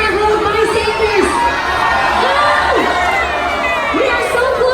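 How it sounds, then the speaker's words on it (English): A crowd cheers and shouts loudly for babies crawling in a race aboard a Disney Fantasy cruise ship, with children's voices and excited whoops rising and falling in a continuous close roar. "Everybody cheer on our babies!"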